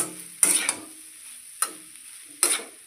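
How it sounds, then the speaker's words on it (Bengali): Leftover cooked rice being stirred and mixed with spices in a frying pan, with three short scraping, sizzling strokes about a second apart, close and moderately loud, with no talking. "ভাতগুলো এখন আমি এতে ঢেলে দেবো। দিয়ে ভালো করে মিশিয়ে নেব মশলাগুলোর সাথে।"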